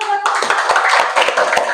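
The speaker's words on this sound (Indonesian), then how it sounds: "tepuk tangan dulu buat" Students in a classroom clap together after a light refraction presentation, a short burst of close, rapid hand clapping with children's voices mixed in.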